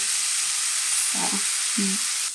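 Mushrooms frying in a pan with soy sauce, a continuous hissing sizzle with a couple of soft low knocks partway through, steady and close with no voices.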